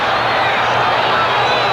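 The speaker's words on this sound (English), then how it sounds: "Crowd gets a little noisy, as they frequently do" A large crowd roars through a 1979 NFL game between Pittsburgh and Cleveland in Cleveland's stadium. The noise is a loud, unbroken wash with faint speech mixed into it.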